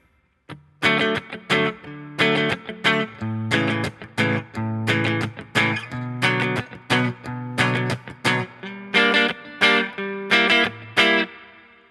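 A guitar strums a song's chord progression, with rhythmic repeated strums in short bursts separated by brief pauses, a slightly processed tone, and no voice.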